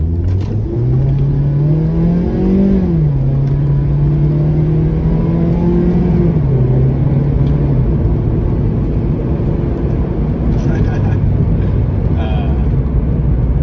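A 2018 Mazda MX-5 Miata accelerating from inside the cabin, its engine note rising in pitch through the gears with a steady rumble and road noise throughout.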